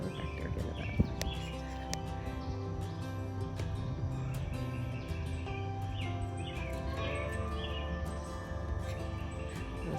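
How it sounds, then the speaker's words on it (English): A bird chirps in a small summer garden, with a series of quick high tweets recurring throughout over a low steady backdrop, soft and slightly distant. "there's a bird back there getting it back."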